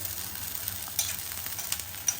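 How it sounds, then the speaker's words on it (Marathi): A pot of water boils steadily with a dense, soft bubbling hiss and occasional sharper pops, close by and moderately quiet, with no one speaking. "पाण्याला उकळी आली आहे"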